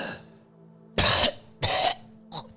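Voice imitating a character coughing up liquid, three harsh coughs in quick succession, the last shorter, close to the mic over a faint steady hum.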